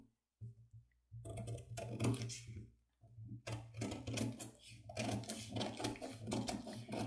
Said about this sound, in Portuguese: Agora eu já posso vir aqui e recortar as duas partes do molde.